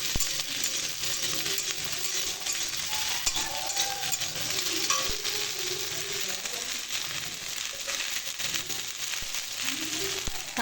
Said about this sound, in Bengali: তেল গরম হয়ে গেছে, এবার এর মধ্যে আমি টক ফলগুলো ঢেলে দিলাম, দিয়ে এবার ভালো করে নাড়বো।